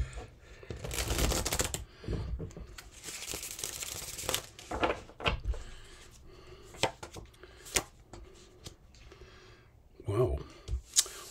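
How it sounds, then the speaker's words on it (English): Tarot cards being shuffled in a rapid riffle, then a series of crisp individual flicks and taps, close up and fairly quiet. "Get one more shuffle."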